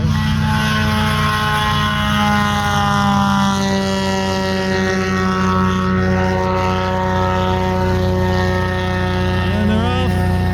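Small propeller airplane taking off, a loud steady engine drone with rising and shifting tones as it speeds up and climbs, heard from close by with faint talk under it.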